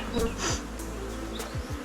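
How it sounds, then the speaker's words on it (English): A dense, steady buzz of many honey bees in a hive box fills the air up close, with individual bees droning past now and then. "A whole lot of bees in the box."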